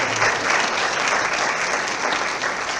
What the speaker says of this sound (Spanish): Un aplauso a la universidad.